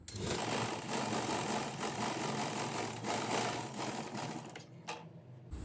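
A sewing machine topstitching a dart on a blouse whirs steadily and close for several seconds, then stops briefly before a short final burst.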